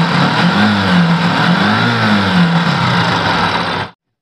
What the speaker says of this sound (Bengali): আমি বাইকটি স্টার্ট দিয়ে আপনাদের ইঞ্জিনের সাউন্ডটি শোনাচ্ছি।